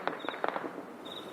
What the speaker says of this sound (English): You can hear the gunfire. This is all ground fire.